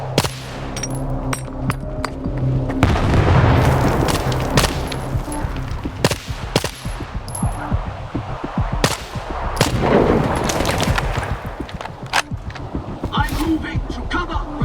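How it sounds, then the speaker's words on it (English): Gunfire and a grenade blast in the shooter Stalker 2: rapid bursts of automatic fire and single shots crack throughout, with heavy rumbling explosions around the middle and later, and shouted voices in between. "Take this grenade, enemy!"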